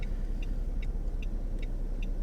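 Car engine idling low and steady during a driving test in Düzce, with the clutch slowly let out. A constant rumble sits under a faint, regular beeping or ticking that repeats about every 0.4 seconds.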